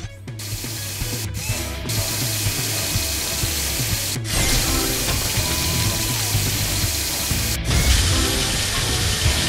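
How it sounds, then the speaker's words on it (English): A drill in a PAW Patrol video game, with a dense, continuous mechanical whir and ratcheting grind that runs steadily and loudly, broken by a few brief cut-outs. "Move this to place the drill."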